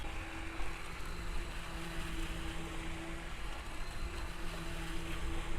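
A VolantexRC Vector SR80 Pro RC speedboat fitted with a 52 mm propeller runs over waves, its motor holding a steady buzzing drone under a gritty, continuous rush of water and wind.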